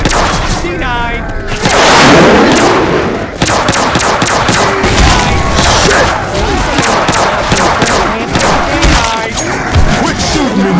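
Dense, loud gunfire in Left 4 Dead 2 on the modded Parish campaign, with rapid shots, booms and crashes packed together across the whole stretch and brief voice bits mixed in.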